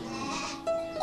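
Ile-de-France sheep and lambs on a small livestock farm in Dikili, with a single short, close bleat rising over quiet farmyard background and no talking.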